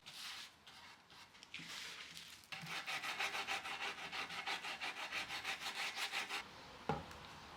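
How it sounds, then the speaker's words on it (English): A wooden dining table being scuff sanded with 150 grit sandpaper by hand, a close rasping rub that begins in short strokes and then settles into a quick, even back-and-forth rhythm before stopping. "I start with a 150 grit scuff sand."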